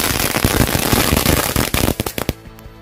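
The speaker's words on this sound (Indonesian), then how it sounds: "ini kita nyalakan mercon telur dino pretek. Satu pak sekaligus" A whole pack of firecrackers goes off in a loud, dense burst of rapid bangs crackling continuously, then thinning into a few separate sharp pops before stopping.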